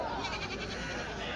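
Goats bleating at a livestock market in Kadiri, a short wavering bleat over busy crowd chatter and background noise.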